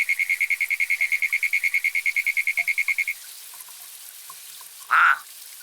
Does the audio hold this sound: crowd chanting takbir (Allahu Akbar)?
no